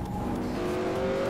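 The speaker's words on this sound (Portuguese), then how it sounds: "Esse carro desgraçado aqui, mano." A car engine revving in the video game GTA MTA roleplay, a steady sustained drone with rising pitch throughout, loud and close with no talk over it.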